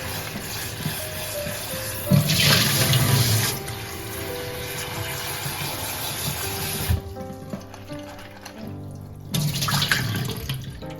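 Peppers being rinsed for pickling under a running kitchen tap, a steady rush of water splashing into the sink, broken by shifts as hands move the peppers and a brief pause before the flow resumes.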